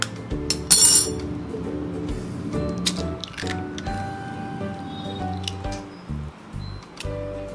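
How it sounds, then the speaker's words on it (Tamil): Two eggs are cracked against a bowl and poured in for an egg Maggi breakfast, with a sharp crack and clink followed by soft squishy drips and small taps, close and fairly quiet. "ஒரு பவுல்ல இப்போ 2 முட்டை உடைச்சு ஊத்திக்கலாம்."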